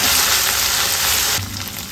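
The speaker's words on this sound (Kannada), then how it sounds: "ಈರುಳ್ಳಿ ಈ ಹದದಲ್ಲಿ ಫ್ರೈ ಆಗುವಾಗ 2 ಪುದೀನ ಸೊಪ್ಪು, ಸ್ವಲ್ಪ ಕೊತ್ತಂಬರಿ ಸೊಪ್ಪನ್ನ ಹಾಕ್ಕೊಂಡು ಫ್ರೈ ಮಾಡ್ಕೊಳ್ಳೋಣ" Onions frying with mint and coriander leaves in a pan for a long bean gravy, a loud, close, steady sizzle that drops away abruptly near the end.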